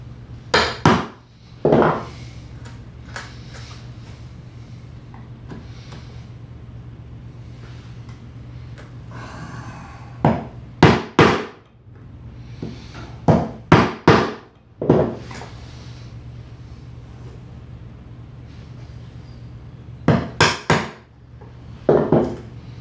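A chisel struck to cut wood for a spice rack produces sharp knocking blows. Some are single and some come in quick clusters of two or three, with quieter shuffling and tool handling in between.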